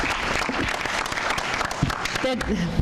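Audience applause at a Howell, New Jersey township debate, a dense, steady clapping that fills the room for a few seconds, with a voice speaking over it near the end.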